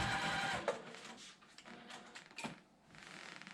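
A domestic sewing machine stitches during free motion quilting on a MODA Blockheads 3 quilt, giving a close, steady mechanical whir that slows and pauses briefly before resuming.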